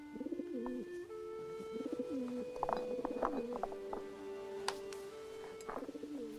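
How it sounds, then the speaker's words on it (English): A messenger pigeon in a BBC television drama coos in repeated soft, rolling phrases, fairly close and clear, with a few faint chirps and light background clatter between the calls. "leaving the messenger pigeon stuck in a tree"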